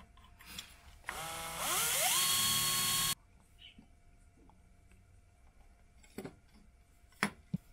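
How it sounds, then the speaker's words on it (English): A power drill whines up and bites into a piece of aluminium for about two seconds, its pitch rising, then cuts off, followed by a few faint clicks and taps. "I will drill another hole here at the edge"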